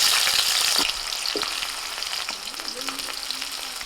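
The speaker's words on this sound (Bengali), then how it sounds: "ফোড়নটা হয়ে গেছে এবার দিচ্ছি পেঁয়াজ কুচি" Chopped onion hits oil tempered with bay leaf, cardamom, cinnamon, cloves and whole cumin, a loud burst of sizzling that settles into steady close frying with light stirring.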